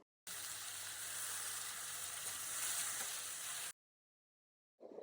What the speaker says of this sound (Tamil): 4 பச்சை மிளகாய், இடிச்சு வச்ச இஞ்சி துண்டு, 3 தக்காளி எல்லாத்தையும் சேர்த்து நல்லா மசிய வதக்குங்க